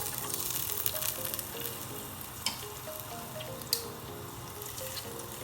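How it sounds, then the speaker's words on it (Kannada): Chopped onion sizzles in hot oil in a pan while a Mangalore-style chicken curry is cooked, a steady close crackle with a few sharp drips and pops. "ಆನಿಯನ್ ಹಾಕಿ ಚೆನ್ನಾಗಿ ಫ್ರೈ ಮಾಡಿ"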